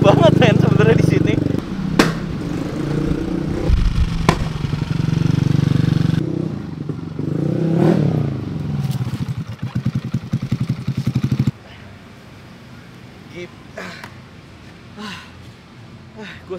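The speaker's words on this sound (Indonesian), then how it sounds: "Cuma ternyata motor ini fun to drive banget." A bored-up motorcycle being ridden gives a loud, rough engine drone with revving surges and rattly idle pulses, shifting between passages, with a person talking over it at times.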